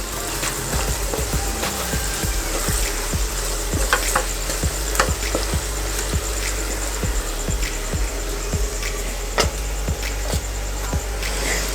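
Spiced capsicum curry with garam masala and coriander-cumin powder stirred in a pan, a steady sizzle of frying under regular scraping strokes of the spoon against the pan, close and continuous without talking.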